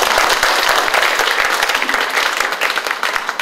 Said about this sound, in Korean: 우리 배정국을 위해서 박수 한번 제가 부탁드립니다